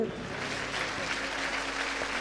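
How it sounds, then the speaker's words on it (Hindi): Congregation at a Hindu religious discourse clapping in greeting during a Krishna birth celebration, steady massed applause at moderate level, with a low hum and faint background tones underneath. "आइए भगवान कृष्ण के साथ सभी का ताली बजाते हुए अभिवादन करते हुए"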